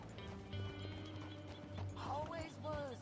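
Horse hooves clip-clop in a steady walking rhythm in the video game Red Dead Redemption 2, low and soft under game character dialogue, with music and ambient sounds also present.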